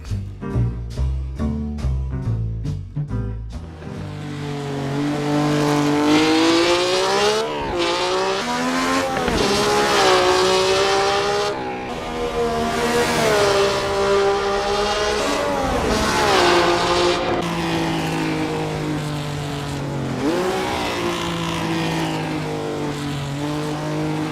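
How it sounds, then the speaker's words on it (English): A 1967 Cooper T81 Formula One car with grooved Firestone tires racing around Monaco in the Assetto Corsa sim, its engine loud and continuous, revving up and down through repeated gear changes with no talk. "So I'm rolling past the harbor here at Monaco with the normal 67 Cooper T81."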